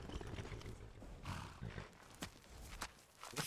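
A skeleton horse in modded Skyrim makes faint, close clopping hoof steps and snorting bursts in a quiet scene.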